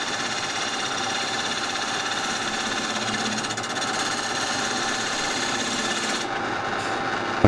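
Metal lathe turning a workpiece with a parting tool, a continuous loud mechanical whir and buzzing hum that holds steady, then briefly changes near the end, with no voices.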